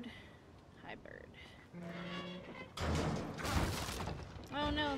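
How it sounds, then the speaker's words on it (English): In the horror video game The Evil Within, a barrel falls and breaks with a loud crashing, shattering burst lasting about a second. Quieter game ambience comes before it, and a voice follows. "Oh no, the barrel fell."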